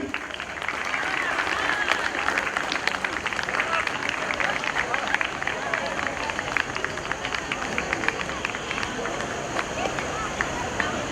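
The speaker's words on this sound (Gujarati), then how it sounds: "જોરથી તાળી." Loud, sustained applause from the audience at a community event, a dense crackle of many hands clapping at once that carries evenly from start to finish, with some crowd chatter mixed in.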